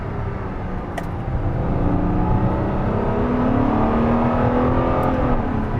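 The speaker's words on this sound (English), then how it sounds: "that is an amazing, amazing engine note." A video game car engine revs up and holds a high, rising whine with a steady roar beneath, loud and continuous, with a brief click near the start.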